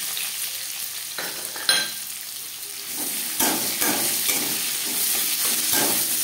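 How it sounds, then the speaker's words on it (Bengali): Chopped onions hit hot oil after five-spice seeds and bay leaves have been fried, a loud sizzle with sharp stirring scrapes and clacks of a spatula against the pan, close up and with no voices. "ফোড়ন তেজপাতা ভেজে নেওয়ার পর দিয়ে দেবো পেঁয়াজ কুচি"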